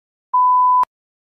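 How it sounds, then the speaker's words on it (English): A single electronic test-prompt beep from an English speaking practice exam, a clean steady tone about half a second long that ends in a sharp click, alone in silence. "You may begin to prepare your response after the beep."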